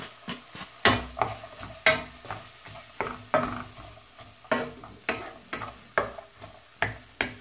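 Onion sautéing with garlic in a pan while preparing pasta with white sauce, a crackling sizzle broken by regular scraping stirs about once a second, close and moderately loud, no talking.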